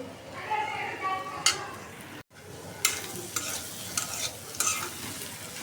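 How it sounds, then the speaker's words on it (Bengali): Snake gourd with egg sizzling and being stirred in a pan, a steady soft fry hiss broken by sharp scraping stirs, with someone talking over it. "এটা ভাজা ভাজা করে ফেলবো।"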